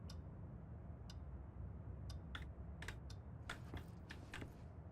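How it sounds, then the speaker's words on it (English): A clock ticks faintly in the video game Control, a few sharp, irregular ticks over a low ambient hum with no voices. "I hear a clock. I mean, there's a clock right here."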